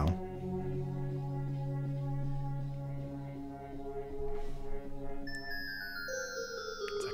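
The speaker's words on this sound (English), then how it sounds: "it's like a bell tree I've made here" A bell-tree synthesizer preset built in the AUM iPad app rings out with layered, sustained chime tones. A cascade of bright, high tinkling notes enters near the end and rings on alone.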